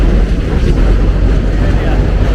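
Strong wind buffets the microphone during a boat ride around New York, a loud continuous roar that covers the whole clip without any speech.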